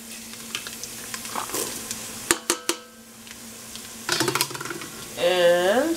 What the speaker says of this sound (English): Okay, so this is sizzling up now, so I'm going to add the garlic.